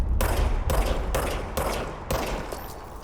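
Gunfire from a player's gun in the video game Control: several loud, sustained bursts of rapid shots, each lasting about half a second, separated by brief pauses and heard close up with no talk.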